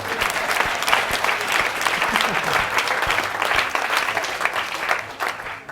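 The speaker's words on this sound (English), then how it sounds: "Give yourselves a big round of applause." A hypnosis show audience gives itself a big round of applause, steady dense clapping from a crowd filling the room and tapering off at the end.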